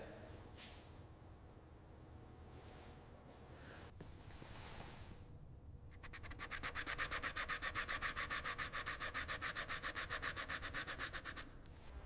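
A part from a 1937 Fiat 500 Topolino is polished to a mirror finish by hand, a soft scuffing hiss that swells into steady, rapid rhythmic rubbing strokes through the second half before easing off.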